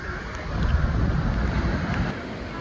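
Rough monsoon sea off Mumbai, waves surging and crashing against a wall, heard as a continuous low roar mixed with gusty wind buffeting the microphone, loud and close, with no speech.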